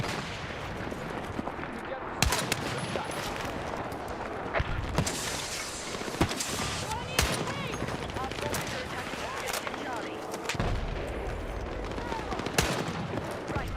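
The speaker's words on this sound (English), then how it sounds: "I'm just shooting randomly into the smoke and get lucky." Gunfire in the video game Battlefield 6, with repeated sharp shots and bursts scattered across the stretch, some louder and closer, mixed with a busy game soundscape while someone talks over it.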